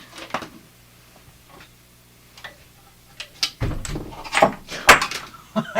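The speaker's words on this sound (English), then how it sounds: "He's banging on the door now." Loud, irregular knocks and thuds against a door, clustered in the second half after a quieter stretch, with several sharp heavy blows close by.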